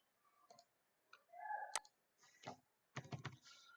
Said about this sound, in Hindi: तो बजट हेड हम टाइप करते हैं।